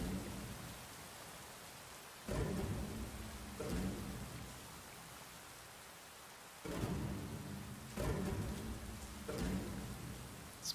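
Heavy rain falls steadily through a thunderstorm in an anime episode while rumbling thunder rolls in at least four times, each burst swelling over the constant hiss of the downpour and then fading.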